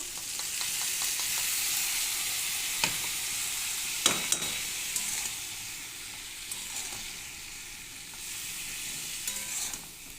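Spices tipped into a hot pan with bitter gourd, a bright continuous sizzle and hiss with occasional knocks and scrapes of a stirring spoon, close and steady without talk.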